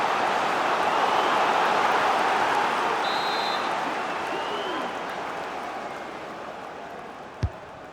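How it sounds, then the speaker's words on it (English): Broad, steady roar of a stadium crowd at a Fulham vs Chelsea football match in EA Sports FC 24, loud and continuous at first and slowly fading, with a brief sharp knock near the end. "The crowd are certainly playing their part."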